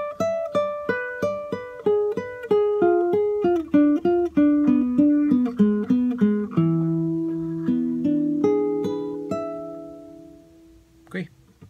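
Solo guitar plays a melodic phrase from the Nicaraguan folk tune "Balada Campestre", a quick run of single plucked notes that slows into longer ringing tones, close and clear, ending with a brief faint knock.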